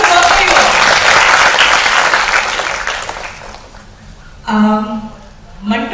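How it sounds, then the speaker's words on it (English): An audience at a special conversation event with an actor for the film Manto bursts into loud, dense applause that fades away over about four seconds, followed by someone speaking briefly. "A big round of applause for you"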